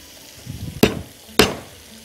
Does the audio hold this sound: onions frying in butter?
yes